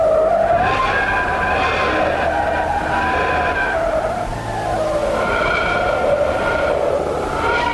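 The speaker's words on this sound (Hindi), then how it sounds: "इस तरह की आवाजों को वैज्ञानिकों ने खास नाम विस्टेलर मेड वेव दिया है" A loud, continuous eerie whistling drone of whistler waves recorded near the sun, with rising and falling tones that sweep up and down, filling the whole stretch without pause.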